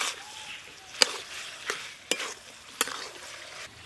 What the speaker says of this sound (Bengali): চিকেনটা মশলার সঙ্গে খুব ভালো করে কষে নিয়েছি